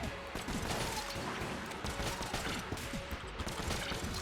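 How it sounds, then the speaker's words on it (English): Rapid, dense gunfire from a weapon in Enter the Gungeon, a video game, firing six bullets per trigger pull, with a crackling, mechanical stream of shots running continuously under game noise. "Oh look, I fire 6 bullets every time I pull the trigger."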